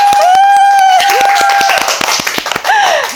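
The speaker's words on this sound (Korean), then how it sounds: "박수!" A small studio audience claps briefly to welcome a guest onto a Korean talk show. The claps are sparse and distinct, under a sustained tonal jingle, and a voice speaks over them.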